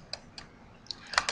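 Several quick keystrokes on a computer keyboard entering a spreadsheet cell reference, a short uneven run of crisp, close clicks that ends in a slightly louder cluster.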